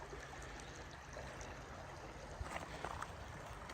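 A creek running over small gravel bars, steady broadband rushing and trickling close by and at constant level, with a few brief knocks and splashes toward the end.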